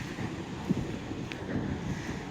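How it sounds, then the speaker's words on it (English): Steady beach wind buffets the microphone with a constant low roar and rumble, no voices, nothing else standing out. "Really super windy."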